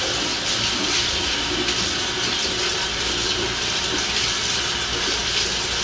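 Tap water runs steadily into a sink while a part of an Omega Vert 350 juicer is rinsed under it, a constant close splashing hiss with no break.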